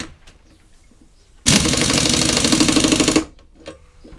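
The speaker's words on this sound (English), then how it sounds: "The blade wants a bit of a clean. It's not too bad, so just give it a bit of a grind off very quickly." A grinder bites into a lawn mower blade in a single loud, harsh burst lasting under two seconds. Quiet workshop sounds come before and after it.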